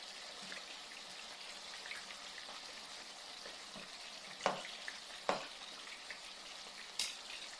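Pieces of chicken fry in plenty of oil in a large pan, a continuous crackling sizzle with a few sharper pops and spatters, close and without talk.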